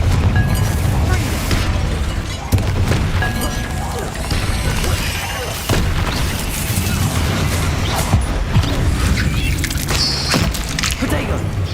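A Confringo blasting curse goes off in Hogwarts Legacy, a loud crashing explosion among dense game combat noise, with heavy booms and smashing impacts layered through the clip.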